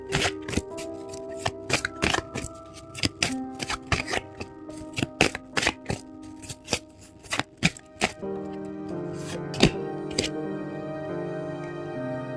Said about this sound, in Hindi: तो सबसे पहले मैं यहाँ पे कार्ड्स निकालूंगी